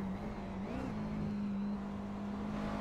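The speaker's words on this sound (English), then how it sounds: "You just heard a pretty early shift there by Pure Racing Team 1. You could hear the engine rev pretty loud." A race car at a 24 Hours of Spa-Francorchamps sim race drones along steadily, its engine pitch rising and then dropping back briefly in an early gear shift, heard faint and continuous.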